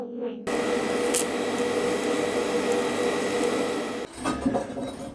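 TIG welding bronze onto a CV joint thread on a bench, with a steady close crackling hiss that runs evenly for about four seconds, then cuts off and leaves some clinking handling noise.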